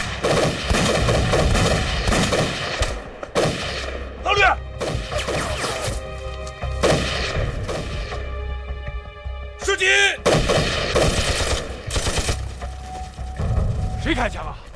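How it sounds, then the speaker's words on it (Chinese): Gunfire in a Chinese war film about fighting the Japanese: loud, booming shots and heavy blasts break out repeatedly, some in quick bursts, over a droning musical score and mixed with scattered voices. "谁开枪啊？"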